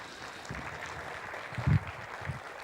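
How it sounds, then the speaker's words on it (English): Audience applause at an education leadership summit at an engineering college, a steady wash of clapping from a crowd with a louder swell in the middle, no speech over it. "Huge round of applause."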